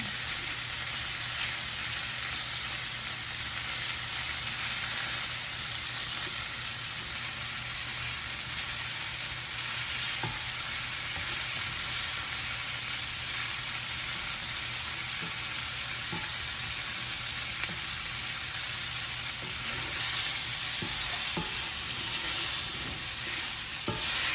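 Chicken fries in a pan while it browns to golden for lemon chicken with orzo, giving a constant, loud, dense sizzle with faint occasional scrapes and no voices.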